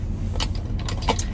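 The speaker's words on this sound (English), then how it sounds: "I've got my key fob in there too." A car key fob jangles inside a Kate Spade satchel purse, a few short bright metallic rattles close up over a steady low background hum.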